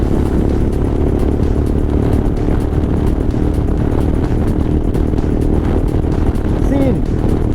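A Royal Enfield Himalayan motorcycle cruising at around 100 km/h on a highway, its engine running as a continuous strained drone mixed with heavy wind rush and road noise, steady and loud throughout.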